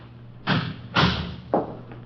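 A door is closed in an old radio police drama, heard as three heavy thuds spaced about half a second apart, close and fairly loud with no voices over them.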